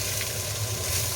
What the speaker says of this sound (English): now's the time I'm going to pop the red peppers in there.